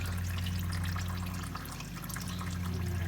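Hydraulic oil draining out of a zero turn mower during a hydro oil change, a steady pouring trickle over a low constant hum, close and without talk.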